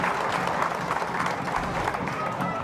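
A stadium crowd at a Canberra United v Melbourne City women's A-League football match roars and applauds in a loud, sustained swell, with a commentator's voice faintly underneath.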